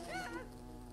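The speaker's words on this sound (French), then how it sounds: "C'est des guêpes, faut pas bouger, c'est tout petit." Oversized wasps buzz in a fantasy game world, a short wavering drone that swells early and then fades under a low steady background hum.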